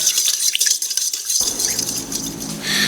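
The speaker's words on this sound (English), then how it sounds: "So I'm going to mix in the sugar." Sugar is stirred into dough for Armenian gata pastry, giving a close scraping and clinking of a utensil against a bowl in quick irregular strokes, with no talking.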